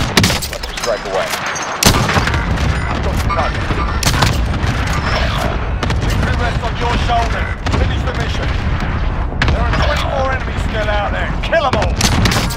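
Heavy gunfire and booming explosions from a called-in airstrike in a military shooter game keep up continuously and loudly, with sharp cracks and deep blasts overlapping while voices shout over the battle.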